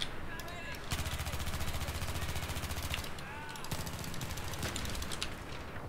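An Mtar-21 bullpup rifle fires in Battlefield 3 during close-quarters combat on the Scrapmetal map: rapid automatic bursts recur throughout amid busy battle noise, with a voice faintly present in the mix.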